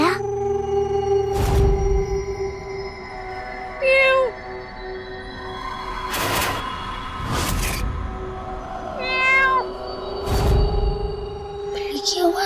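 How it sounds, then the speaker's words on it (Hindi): A cat meows several times indoors, with drawn-out rising and falling cries at a moderate distance. Loud thumps and knocks sound between the meows, over a steady background hum. "बिल्ली की आवाज, इसका मतलब कोई बिल्ली घुस आई है।"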